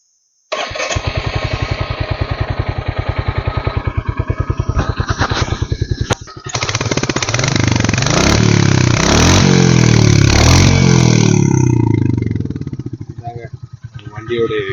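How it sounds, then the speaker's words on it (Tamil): A Royal Enfield Hunter 350 motorcycle cranks and fires up, settling into a steady thumping idle, then a brief pause before it is revved up and down in a loud, close exhaust note. "வண்டியோட எக்ஸாஸ்ட் சவுண்ட்லாம் சூப்பராக இருக்குங்க"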